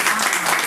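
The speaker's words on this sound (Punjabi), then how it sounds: "ਤਾੜੀਆਂ ਵਜਾ ਦਿਓ।" A short burst of dense applause from a gathering of women at a Karva Chauth katha in a neighbourhood of Nakodar, brief and even.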